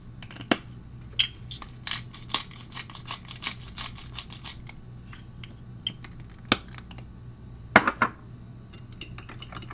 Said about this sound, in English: We need to add salt and pepper.